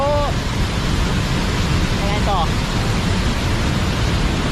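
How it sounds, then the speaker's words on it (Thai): Steady broadband roar of Haew Suwat waterfall in Khao Yai, a continuous rushing wash of falling water filling the scene from start to finish, with a person briefly speaking over it. "ที่ด้านหลังของผมก็คือน้ำตกเหวสุวัณนะครับ"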